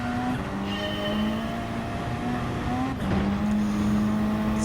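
Steady, loud race car engine drone in Gran Turismo 7 on the Circuit of the Americas, holding a high whine, briefly dipping at a shift around the three-second mark, then climbing again, with no voices.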